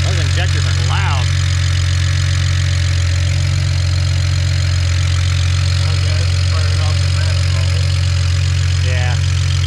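A BMW 335 with the N54 engine idles with loud fuel injectors, giving a steady, close, droning hum with a busy ticking layer on top, while faint voices come through briefly.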